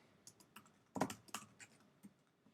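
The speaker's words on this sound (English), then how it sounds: "And you can type whatever you like." Short burst of typing on a computer keyboard into a blank Google Docs document: close, crisp key taps in quick irregular clusters with a few louder strokes, heard alone in a quiet room.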